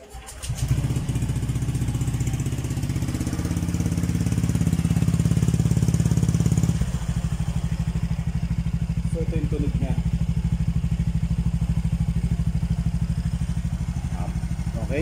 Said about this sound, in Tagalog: inalis ko siya para lumabas yung tunay na tunog ng exhaust. Mas lalong lumutong ang tunog niya.